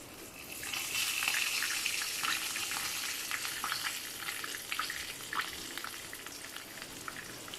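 Crispy zinger French fries deep-frying in hot oil give a steady, close, loud sizzle and bubbling hiss that swells early and holds, with small crackling pops throughout.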